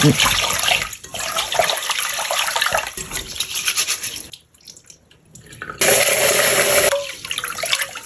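Japanese rice being washed by hand in room-temperature or cold water, with sustained sloshing and swirling water that briefly quiets and then surges again, alone without talk.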